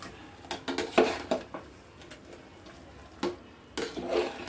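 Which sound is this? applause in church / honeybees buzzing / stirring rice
stirring rice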